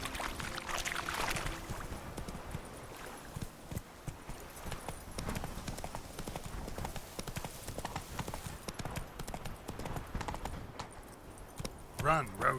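Hoofbeats of Roach, Geralt's horse in The Witcher 3: Blood and Wine, clip-clopping steadily at a run, loud and close, with game sounds mixed around them.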